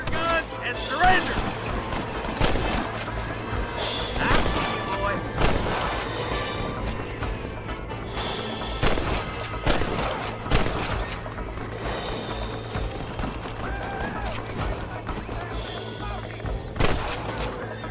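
Rapid volleys of gunfire crack through a shootout in Red Dead Redemption, with bursts of overlapping shots and sharp impacts repeating across the stretch. Voices come through now and then between the shots.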